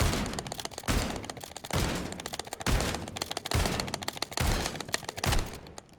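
Rapid fire from a Marine SP Lockwood 680 shotgun fitted with a rapid fire mod in a video game, six loud booming blasts spaced roughly a second apart, each decaying into a rumbling tail.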